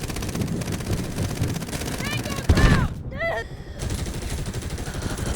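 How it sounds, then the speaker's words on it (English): A Bison submachine gun fires in a first-person shooter, with rapid bursts of automatic fire crackling steadily beneath continuous talking and a brief louder burst midway. "The Bison's what you want to use and like ruin people's faces like I'm doing right here."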